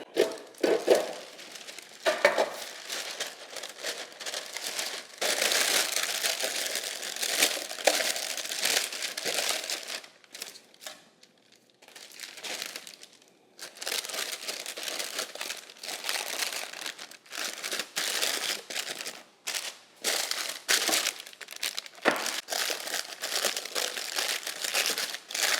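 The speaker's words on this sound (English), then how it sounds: "I've got parchment paper." Parchment paper crinkling and crumpling close by in a home kitchen, a long run of crisp rustles and crackles that pause briefly now and then before starting again.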